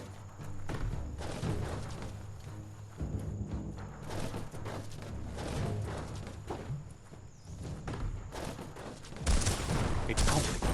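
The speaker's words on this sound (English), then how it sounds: "Shoot it and watch it blow." In Biomutant, an explosive barrel is shot and bursts. Repeated gunfire and thuds build to a louder, broader blast near the end, all close and free of talk.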